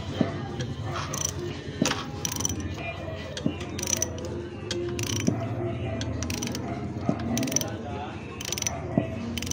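17mm socket wrench turning counterclockwise on the engine head of a Suzuki Raider J motorcycle, repeated close ratchet clicks and metallic creaks in uneven strokes over a steady low background hum.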